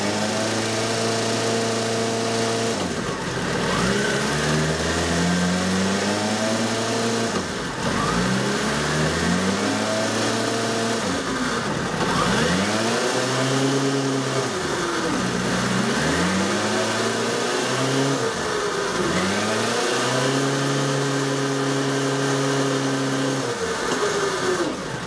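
Yamaha Fazer motorcycle engine held at a steady raised idle, with several repeated rev swells rising and falling over a continuous close, loud drone throughout.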